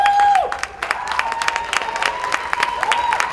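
An audience at a Hawaii regional event bursts into warm applause, dense clapping under a lingering feedback-like tone, loud and close.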